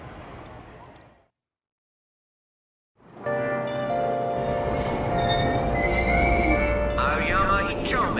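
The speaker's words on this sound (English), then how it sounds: "Train doors are now closing. Please stand back." After a brief silence a train rumbles along with squealing, whining wheels and metallic screeches building loud, a voice speaking faintly near the start, in the video game Persona 5 Royal at Aoyama-Itchome station.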